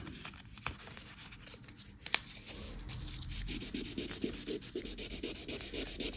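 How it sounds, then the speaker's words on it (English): Fine wet and dry paper rubbing a Honda moped sprocket: close, quiet scratching strokes that settle into a steady back-and-forth rhythm after an uneven start, with one sharp click. "Maybe we'll hit it with a bit of wet and dry as well."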